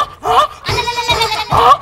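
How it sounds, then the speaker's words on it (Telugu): A bleating animal call used as a buffalo sound effect in a Telugu comedy skit, three loud wavering bleats in quick succession, with the middle one drawn out longest. "గేదె"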